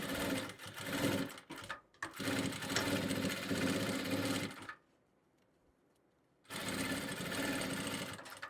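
A sewing machine stitches fabric for a water bottle holder, running loud and close with a steady rapid whir, then stopping for about two seconds of near silence before starting again.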